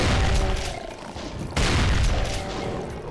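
Grenade explosions in the classic shooter DOOM, two heavy booming blasts in quick succession, loud and rumbling with dense low-end roar.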